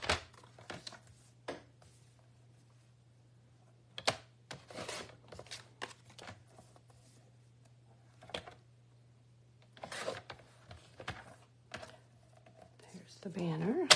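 Paper pieces being cut with scissors or a trimmer for a side flip flap card: scattered quiet snips and crisp paper rustles at irregular intervals over a low steady hum, close and faint.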